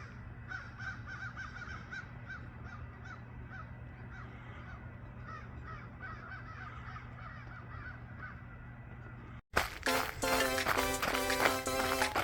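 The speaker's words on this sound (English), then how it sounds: "Good morning, crows." Crows caw repeatedly at a distance during a morning run outdoors, the calls coming in a loose rhythm over steady background hum, then a sudden louder burst of noise near the end.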